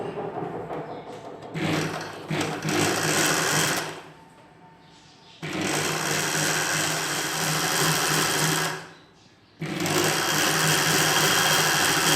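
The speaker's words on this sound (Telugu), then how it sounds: "ఈ చివరన అంచులు కనిపించకుండా కుట్టు వేసుకోవాలి" A sewing machine stitches the folded hem of a nighty, loud close bursts of fast whirring separated by two short pauses, three runs in all.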